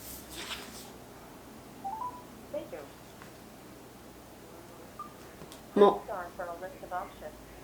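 A telephone keypad dials a number as a short burst of touch tones, placed to call a medical supply company about changing an ostomy bag order. Faint and close, with quiet indoor rustling and brief speech-like sounds nearby.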